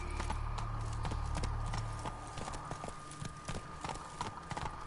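Roach, a horse in The Witcher video game, gallops with rapid, rhythmic hoof clip-clops, fairly quiet and steady throughout, with a low rumble early on.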